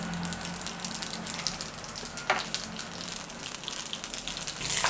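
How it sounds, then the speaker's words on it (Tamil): Fennel seeds, cumin and mustard seeds crackle and sizzle in a tablespoon of hot oil in a kadai for tempering Kerala egg curry, a steady soft fizzing hiss with scattered pops, fairly quiet and close. "தாளிக்கிறதுக்கு கடாயி வச்சு நான் 1 tablespoon எண்ணெயை விட்டுருக்கேன்"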